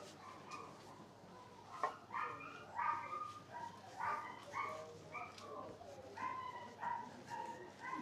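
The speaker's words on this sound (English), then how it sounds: "that dog doesn't sound too happy" Unhappy dog in a pet shop barking and whimpering in short repeated bursts, moderately close, with yips and whines spread across several seconds over a faint background hum.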